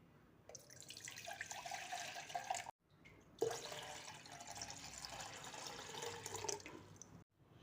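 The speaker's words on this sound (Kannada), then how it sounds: "2 ಬೌಲ್ ಆಗಷ್ಟು ನೀರು ಹಾಕ್ತಾ ಇದ್ದೀನಿ" Water poured into a pan for wheat flour halwa, a steady splashing, trickling pour running for several seconds with a brief pause partway through, close and moderately loud.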